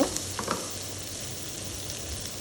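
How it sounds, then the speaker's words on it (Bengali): Onions sizzle steadily in a hot pan while cooking for butter chicken, a close, even frying hiss with a few light stirring clicks near the start. "দিয়ে দিচ্ছি একটু পেঁয়াজ। সবগুলাকে একসাথে করে ভেজে নিয়ে"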